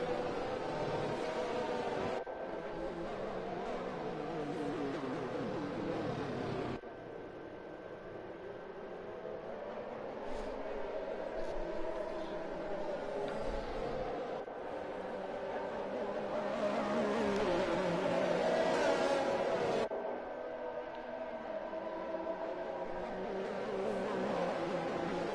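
A field of race cars on a formation lap of the Singapore circuit in a sim racing game drones steadily with engine whine and shifting revs, a continuous mid-distance roar that swells and dips over the whole stretch.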